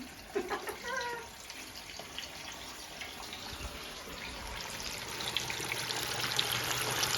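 Chicken pieces frying in bubbling hot oil, a steady broadband sizzle and crackle that grows slightly louder and denser toward the end, with no talk.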